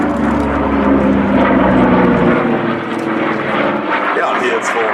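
A 1958 Douglas DC-6B piston-propeller airliner at the ILA Berlin air show at Schönefeld gives off a loud, steady engine drone that holds throughout, with people talking over it.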